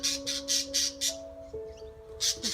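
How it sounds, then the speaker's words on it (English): Birds on a ranch squawking in harsh rhythmic bursts, several loud calls in a row, then a short pause and two more, with a faint tonal hum running underneath. "In the background you can hear the birds."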